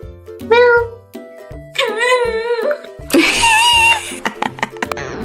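A pet cat meows loudly and close by in a few drawn-out, wavering calls with short pauses between them, ending in a longer, strained yowl.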